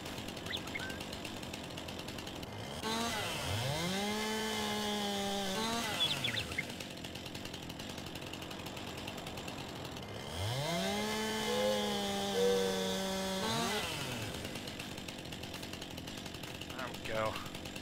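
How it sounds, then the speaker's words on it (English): A chainsaw cuts a tree in Farming Simulator 19, revving up twice in long, rising, buzzing bursts that hold steady and then wind down, fairly loud against a low background. "It's actually a lot funner to cut it with a chainsaw and watch it drop"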